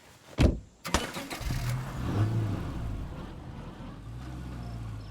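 A car in State of Decay 2 drives off after two sharp thumps, its engine settling into a steady mid-pitched hum and rumble that holds close and constant.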